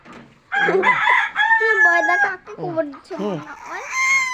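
A hen from an egg-selling household flock lets out a run of loud, close, harmonic cackling calls in several bursts, with voices nearby.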